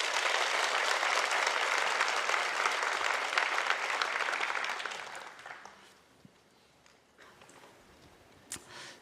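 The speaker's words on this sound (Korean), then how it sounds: "1년 동안 말씀으로 우리를 먹여주신 목사님 감사의 박수로 모시겠습니다." A church congregation applauds at a New Year's Eve worship service, a dense, even wash of clapping that holds for about five seconds, then fades out to a quiet hall with a few stray sounds.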